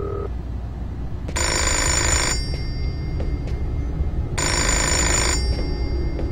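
A telephone rings in the video game Fahrenheit (Indigo Prophecy) on PS2, with two loud, bright ring bursts of about a second each separated by a pause, over a steady low background hum.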